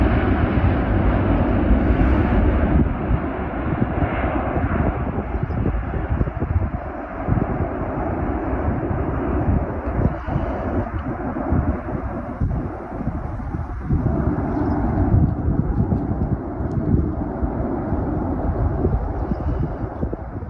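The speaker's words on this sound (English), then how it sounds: "After departing for a training flight, this Airbus A380 signaled by waving its wings" An Airbus A380 on a training flight produces a steady, unbroken broadband jet roar that holds at an even loudness throughout, with no voices.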